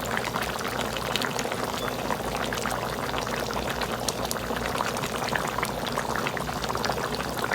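Coconut milk poured into a pot of crab curry, a steady bubbling, gurgling liquid sound with constant sizzling texture, close and even for the whole stretch with no talking.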